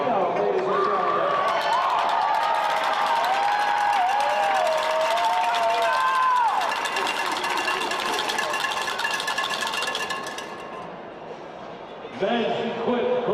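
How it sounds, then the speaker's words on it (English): Crowd applause and cheering for an announcer at a collegiate powerlifting national championship, a sustained loud wash of clapping over a voice on the microphone that fades out toward the end before talk resumes. "How about a big round of applause for Gino, ladies and gentlemen?"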